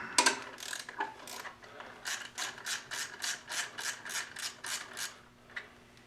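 Ratchet loosening a spark plug on a 2006 Hummer H3 engine: a sharp clack, then a steady run of about a dozen evenly spaced ratcheting clicks, close and clear, with no talking.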